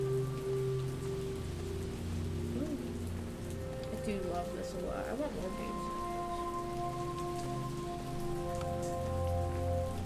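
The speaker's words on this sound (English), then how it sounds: "the rain is so satisfying to me" Steady rain patters throughout a video game scene, a soft continuous hiss under background music, while a person talks over it.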